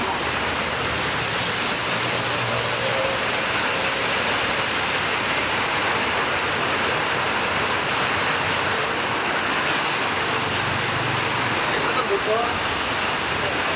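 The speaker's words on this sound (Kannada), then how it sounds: "ಮಂಡ್ಯ ಜಿಲ್ಲೆಯ ಹಲವೆಡೆ ಗುಡುಗು ಮಿಂಚು ಸಹಿತ ಭಾರೀ ಮಳೆಯಾಗಿದೆ" Heavy rain falls across Mandya district, a dense steady hiss of downpour that fills the whole stretch without a break. No clear thunder cracks stand out.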